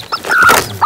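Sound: chick calling

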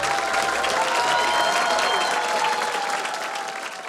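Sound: audience applause after a poem reading

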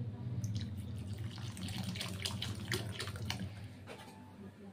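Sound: water poured into fish curry masala in pan

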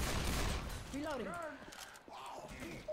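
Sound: gunshot in video game Left 4 Dead 2

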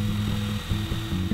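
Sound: power drill drilling holes into a wooden log

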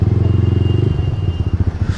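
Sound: motorcycle riding at night on a Delhi road

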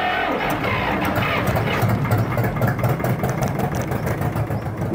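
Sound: Honda TRX450 quad engine starting and idling

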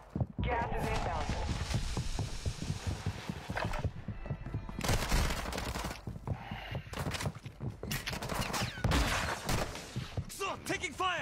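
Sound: gunfire in a video game

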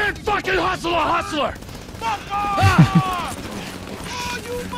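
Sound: gunshots in video game GTA 5

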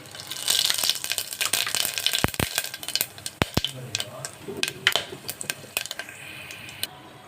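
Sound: masala frying in hot oil in pressure cooker

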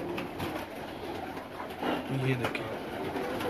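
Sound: pigeon cooing in a loft

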